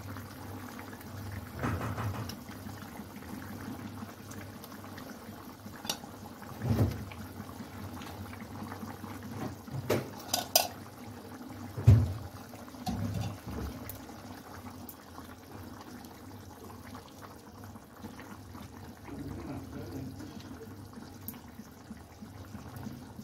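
Chitol fish curry gravy with ridge gourd simmers in a pan, giving a low, continuous bubbling with occasional louder pops and gurgles, close by and without voices.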